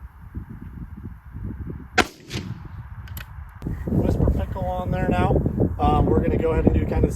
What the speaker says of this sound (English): 2 shots with the suppressor so you can hear how it sounds